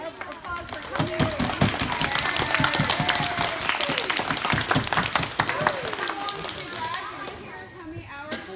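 A room of people at a game design presentation gives a round of applause, a dense, steady patter of clapping lasting several seconds with voices talking underneath.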